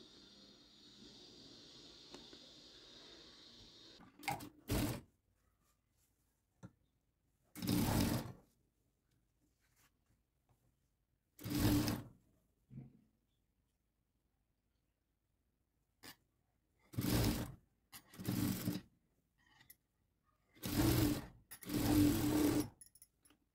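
Sewing machine stitching the sleeve seams of a pot-neck blouse with a puff sleeve, running in short separate bursts of a few seconds each with quiet pauses between them, close and fairly loud.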